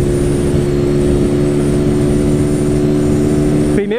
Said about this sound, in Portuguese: Olha, tá dando quase 120 na motinha já, velho.